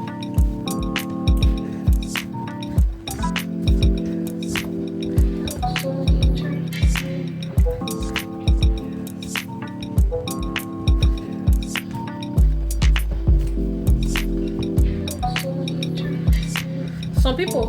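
Cooked farina swallow being turned and stirred in a pot, with repeated soft clinks and wet squishing thuds in a steady rhythm, close and fairly loud, while someone talks over it.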